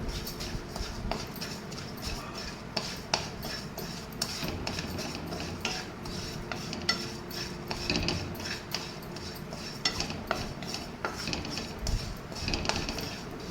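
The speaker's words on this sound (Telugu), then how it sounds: "ఒక రెండు స్పూన్లు జీలకర్ర వేయించుకోవాలి" Two spoons of cumin seeds roasting lightly in a pan with a little oil, stirred with a spoon that gives quiet, irregular metallic scrapes and clinks against the pan, close and fairly soft, with no one talking.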